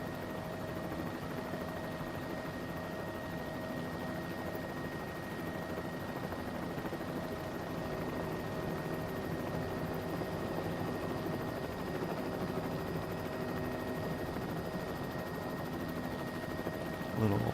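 A helicopter flies low toward a beach landing, its rotor and turbine making a steady, even whine and thrum that stays constant and moderately loud.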